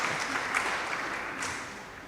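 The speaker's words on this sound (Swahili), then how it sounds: "Sio makofi hayo yanahitajika?" A church congregation applauds a priest being bid farewell, a brief, steady wash of clapping at moderate volume that tapers slightly toward the end.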